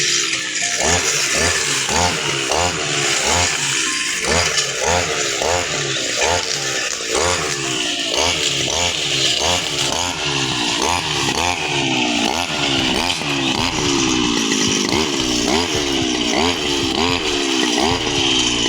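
Grass-cutting machine (a brush cutter) running steadily through a heavy growth of grass in the Konkan countryside, its loud buzzing engine rising and falling in a repeating rhythm of rev surges, close and continuous throughout.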